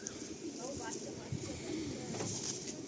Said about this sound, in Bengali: এটা সেটিং পায়রা নাকি? ওড়ানো পায়রা।